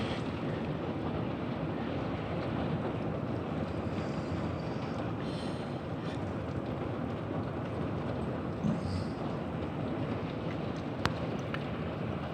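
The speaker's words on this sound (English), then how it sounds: "The wind is definitely picking up." Strong wind roars steadily across the microphone as a storm approaches a town, a loud, constant rush with a deep rumble beneath and no letup.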